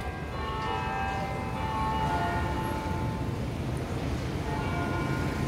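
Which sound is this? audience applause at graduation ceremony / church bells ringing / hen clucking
church bells ringing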